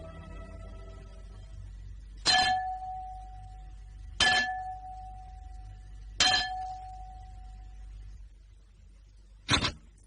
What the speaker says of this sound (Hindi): तुमने ये घंटा बजाया है?